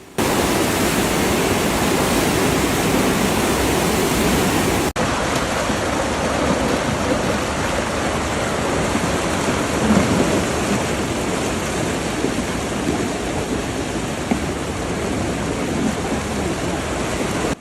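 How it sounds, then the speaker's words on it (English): Heavy rain pours down steadily in a dense, constant roar during a thunderstorm that brought severe flooding to the New York and New Jersey area, with no voices, only the unbroken wash of falling water throughout. "rain continued relentlessly into the evening"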